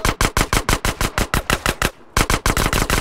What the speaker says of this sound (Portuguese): Vou atirar aqui, que é o glitch